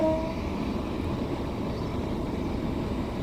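Steady, even rumble and rolling noise of a Class 150 Sprinter diesel train moving slowly along the Tees Valley Line in Train Sim World 2, continuous and fairly loud with no talking.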